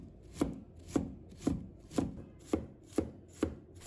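A knife dices carrots into small pieces on a cutting board, giving about eight crisp, evenly spaced chops, roughly two per second, close and clear with no talk.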